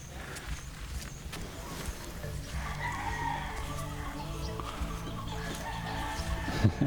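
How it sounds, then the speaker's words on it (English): Roosters in Danao, Panglao, Bohol, Philippines crow in drawn-out calls that overlap one another across the whole stretch, moderately distant and fairly faint over a low background murmur. "the roosters go crazy"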